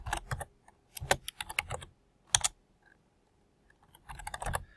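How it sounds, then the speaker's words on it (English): Keystrokes on a computer keyboard come in several quick bursts separated by pauses, close and clear, with no voices. "I could type into the other text box of the other widget"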